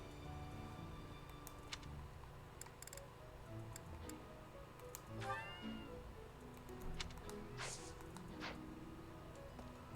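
A cat meows in Fire Emblem: Three Houses, a short rising mew and a longer caterwaul-like call standing out faintly over a steady ticking game ambience, with no talk.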